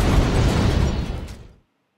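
A bomb blows up in a team bomb-defusal video game, a loud broad explosive roar that rumbles and then cuts off into silence.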